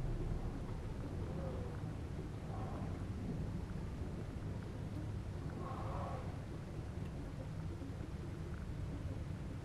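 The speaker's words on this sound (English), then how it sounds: "It's too dark and rainy outside." Steady outdoor rain with low rolling thunder rumbles in a dark horror game, a continuous dense wash of noise that holds at moderate level throughout.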